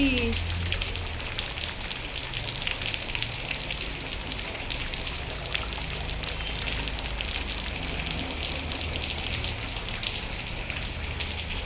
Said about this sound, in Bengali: আর কি বৃষ্টি